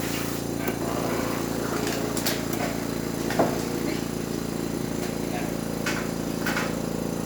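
Breville Barista Express coffee grinder running steadily throughout, a continuous mid-pitched motor whir with faint clinks on top, close and moderately loud.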